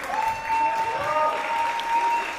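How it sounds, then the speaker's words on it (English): Crowd applause at a pro wrestling show during a junior heavyweight championship tournament: continuous even clapping from the arena audience, heard under a commentator talking. "Yohei still enjoying the applause."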